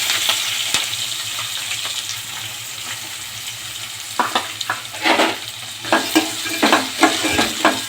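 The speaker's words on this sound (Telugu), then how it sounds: "బాగా గోలాలండి, కలర్ వచ్చేసరి దాకా." Onions and green chillies fry in a pan for mutton rogan, a steady close sizzle with scraping stirs that grow more frequent and pronounced toward the end.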